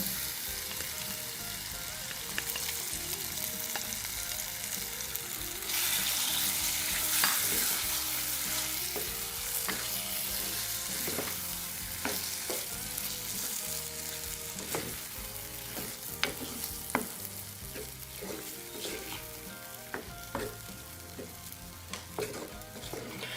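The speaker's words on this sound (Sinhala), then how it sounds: "මේකට අපි කලින් උයාගත්තු කරවිල ටික එකතු කරලා හොඳින් කලවම් කරගන්න" Bitter melon curry frying and being stirred in a pan, a steady loud sizzle throughout with scattered scraping clicks of a spoon against the pan, no voices.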